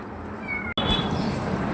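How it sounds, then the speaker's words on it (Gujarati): A domestic cat, newly arrived at a household, gives a close, clear meow, then a brief silence and a louder, rougher cry against a faint background hiss. "ચોથી બિલાડી આવી ગઈ અમારા ઘરે"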